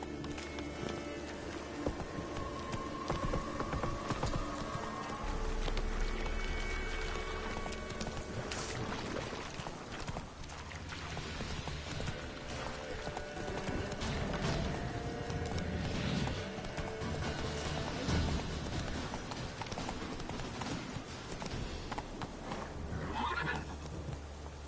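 Roach the horse in The Witcher 3 video game, galloping hoofbeats in steady clip-clop rhythm with repeated neighs and whinnies over a busy game soundscape.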